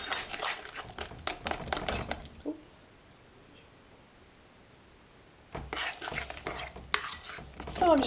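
An egg is beaten into chewy brownie chocolate chip cookie dough: brisk, wet scraping strokes, then a pause of near silence, then the rapid stirring resumes close by.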